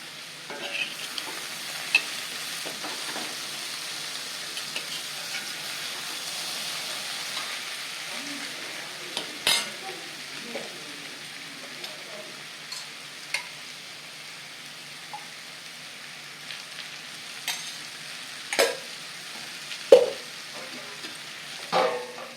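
Elephant foot yam (senai kizhangu) curry with salt and chilli sautéing in a pan, a steady soft sizzle with occasional louder stirring clinks and scrapes, close and without talk.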